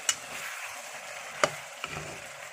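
Onions frying in oil for an Assamese chicken curry, with a soft steady sizzle broken by two or three light clacks of a spoon stirring the pan, close and fairly quiet.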